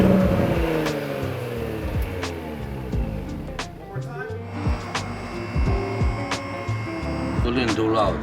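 Audi SQ5 with a resonator delete rolls into a shop, its engine rumbling and briefly revving at close range, with a steady hum throughout and a person talking over it.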